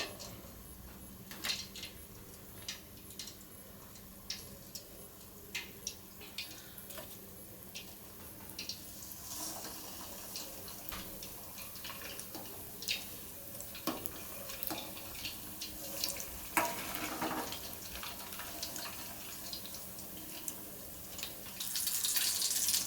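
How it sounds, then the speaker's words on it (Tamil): Stuffed bread-potato rolls deep-frying in oil, a soft, faint bubbling crackle of scattered ticks and pops that grows busier toward the end, with no talk. "இதை வந்துட்டு ஆயிலில் போட்டு அப்படியே பொரித்து எடுத்துக்க போகிறோம்"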